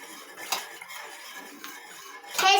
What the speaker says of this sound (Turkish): Ve nişastayla birlikte de karıştırıyoruz.